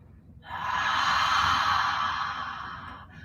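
One deep, slow breath is drawn in during a yoga session, a soft airy rush that swells after half a second and tapers away, close and alone.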